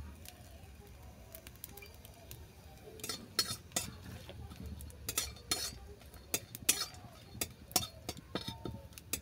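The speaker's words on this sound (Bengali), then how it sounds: "এটাকে কিছুক্ষণ রোস্ট করে নিচ্ছি।" Whole spices such as cinnamon, cloves, cardamom, bay leaf and dried red chillies dry roasting in a pan, with scattered clinks and scrapes of a spoon against the metal over a low steady background, no talking.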